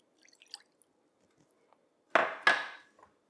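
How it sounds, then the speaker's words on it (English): Freshly squeezed lemon juice goes into a salad dressing for a Greek-style green bean and potato salad as two short, close splashy bursts after a few faint ticks, with no talking. "I'm going to do 1/4 cup of lemon juice."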